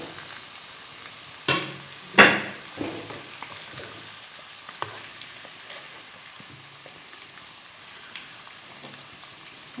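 Chicken leg pieces fry in a karahi with a quiet steady sizzle. A couple of loud clattering drops and stirring knocks come early, then a faint, even crackle follows.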